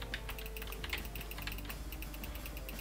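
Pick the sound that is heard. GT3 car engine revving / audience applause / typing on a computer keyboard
typing on a computer keyboard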